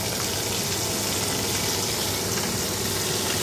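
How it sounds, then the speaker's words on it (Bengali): Fish frying in a pan in a home kitchen, a loud, dense, continuous sizzle and hiss that stays close and even throughout, with no talking. "মাছ ভাজছি"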